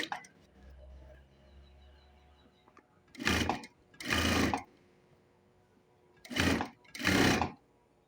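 A sewing machine stitching an outline seam on a nightgown sounds in four short, loud bursts arranged in two pairs, following a stretch of faint low background hum.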